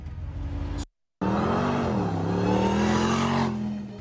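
A 700-horsepower truck engine in Warzone revs hard and close, its steady whining tone rising and falling. A brief cut to silence breaks it after the first second, then the engine roars on continuously and loudly.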